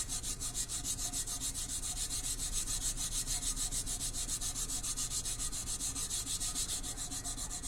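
Tacky craft transfer being rubbed out by hand once the tack has dried, a steady close scratchy rubbing that repeats in quick even strokes without pause, with no one talking.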